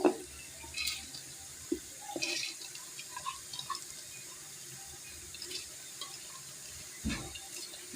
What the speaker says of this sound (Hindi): अच्छी तरह मैंने इसको वॉश किया